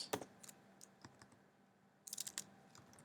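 Typing on a computer keyboard in a quiet room, faint scattered key clicks in two short bursts separated by a pause.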